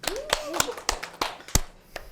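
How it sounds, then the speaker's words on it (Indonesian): A small audience at a student council talk show claps on request. About seven scattered, fairly loud claps sound while a voice keeps talking over them. "Tepuk tangan dulu dong semua, tepuk tangan"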